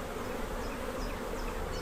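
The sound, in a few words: honeybees buzzing at an opened hive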